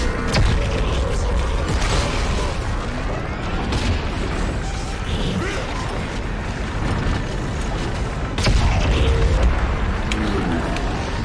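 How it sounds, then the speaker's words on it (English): Loud, dense explosion blasts in the sci-fi horror video game Dead Space 3, with heavy low rumble throughout and a fresh burst about two-thirds of the way in, all close and continuous. "That caught me in the explosion."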